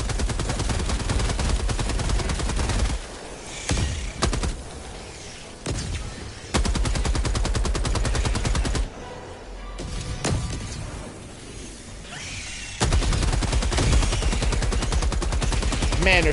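Heavy machine gun fire in a video game roars in long, dense automatic bursts with brief pauses between them, loud and continuous under a player's voice talking.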